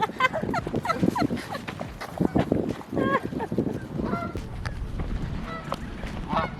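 A flock of geese honks and gobbles nearly nonstop by the water on a summer evening in San Jose, the calls overlapping, close and insistent, with louder bursts early and a steadier chatter after.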